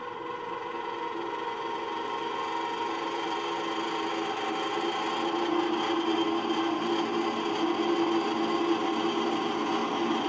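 Fan motor of a vintage Toastmaster Model 9B1 heater in need of servicing, running with a steady droning whir and rattle, close and continuous for the whole stretch.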